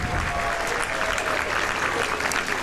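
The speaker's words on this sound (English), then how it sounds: "a big round of applause for that performance" Spectators lining the Victoria Day Parade route in Victoria clap and cheer after a performance, a loud, dense wash of applause sustained throughout.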